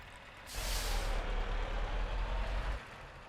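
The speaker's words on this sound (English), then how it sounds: "So here we are with our Pepsi truck ready to go." A Pepsi-liveried truck in a UK truck simulator game releases its air brakes with a loud, close hiss lasting about two seconds over a deep, steady diesel engine rumble that then cuts back.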